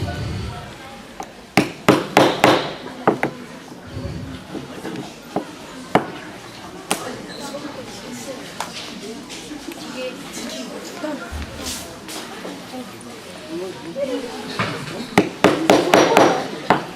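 A striking tool hammers holes for rivets, giving sharp, close knocks in uneven bursts with quieter stretches between, while a voice speaks at times.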